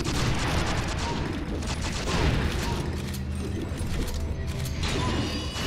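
Gun reloading in the video game Secret Ponchos, heard as mechanical clicks and ratcheting clatter amid dense, loud gunfire and game noise.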